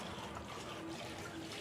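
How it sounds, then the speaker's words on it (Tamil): Water runs steadily from a brass inlet fitting into a tank, a continuous low trickling rush that stays even and fairly quiet throughout. "தண்ணி வந்துடுச்சு"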